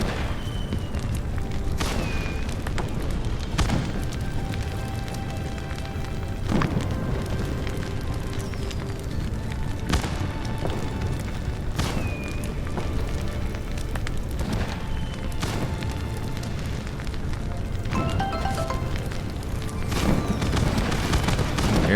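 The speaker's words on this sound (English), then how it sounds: "I just want to look at the fireworks." Fireworks in the farming game My Time at Sandrock burst one after another over a steady crackling bed, with booms every few seconds and faint whistling rises between them.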